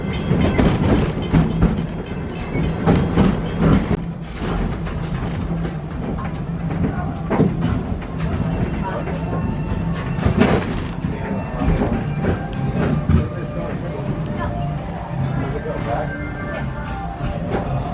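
Disney's Animal Kingdom Wildlife Express Train rumbles along with steady clickety-clack of wheels on rail and occasional thumps, loud and close, while voices talk over the running train.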